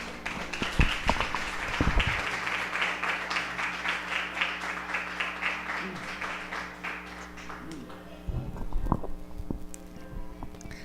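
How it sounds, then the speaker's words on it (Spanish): Church congregation giving a round of applause of praise, scattered claps thickening into steady clapping, then thinning out, with a few sharper, closer claps and low murmuring voices. "¿Quieren darle al Señor un aplauso de alabanza por eso?"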